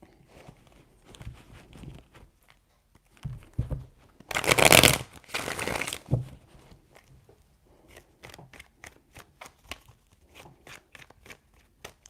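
Tarot cards shuffled by hand in a few quick bursts, a loud riffling rush in the middle amid lighter taps and card handling.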